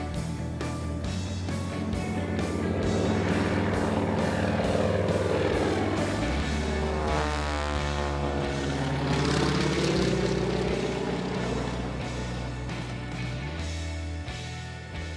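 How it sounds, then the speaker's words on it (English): A Stearman biplane's propeller engine drones loud and steady, its pitch shifting as the aircraft passes close by. "Dennis Dunlap loves flying his Stearman. Once it's off the ground, it's a great airplane"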